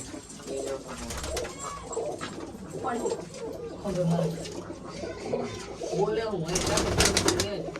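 Pigeons cooing in crates keep up soft, low, throaty coos with some wing shuffling, moderately close and faint. Someone talks over the birds now and then.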